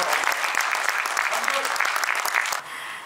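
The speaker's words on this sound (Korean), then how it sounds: "의원님께 마지막 큰 성원의 박수" Audience applause at a talk concert for Vietnam War veterans and bereaved families, a dense steady clapping across the whole stretch that fades slightly near the end.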